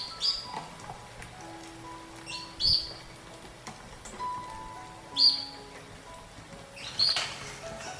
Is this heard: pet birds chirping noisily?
yes